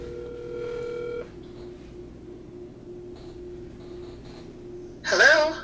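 A telephone call being placed: a steady dial-tone hum for about a second, then quiet line ringback, ending in a short loud burst as the line connects.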